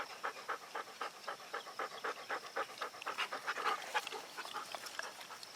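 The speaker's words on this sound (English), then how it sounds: "Hear all the panting in the background. It's because we're being harassed by dogs right now." Several dogs pant hard and rhythmically close by, a rapid steady huffing that runs through the whole stretch with no voices over it.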